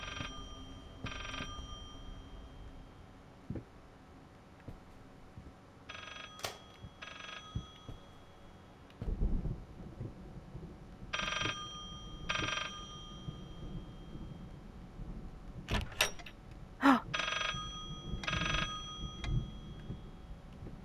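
A telephone in the Layers of Fear horror video game rings in repeated paired bursts, bright and insistent, separated by short pauses over a quiet, low background hum.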